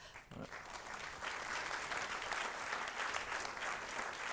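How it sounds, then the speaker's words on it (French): A full audience claps steadily after a presentation at a debate on a European approach to AI, dense and sustained, starting slightly thinner then swelling to an even roar. "Je vous demande de les applaudir."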